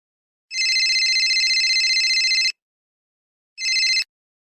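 A phone ringtone plays as a bright electronic warble, one two-second ring and then a shorter burst after a pause, loud and close in a quiet room.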